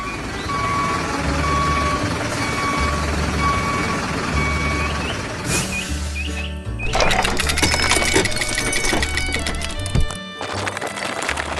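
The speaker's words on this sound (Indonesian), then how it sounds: "Truk ini sedang bergerak dengan tenang dan nyaman." A green truck carrying large logs in a trailer moves along with repeated electronic reversing beeps over a low engine hum, joined midway by louder clattering, rattling mechanical noise.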